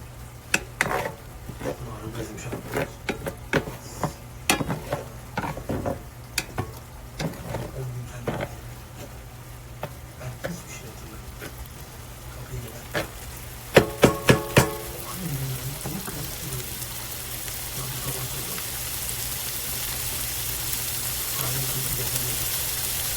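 Red pepper flakes are stirred into a sizzling Asian takeout-style stir-fry, with repeated close scraping and clacking of a utensil against the pan over a steady frying hiss that grows louder toward the end.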